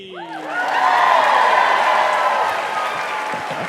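A live audience at a 2 Dope Queens comedy show bursts into applause and some cheering that swells and stays full and dense for several seconds, with scattered whoops over it.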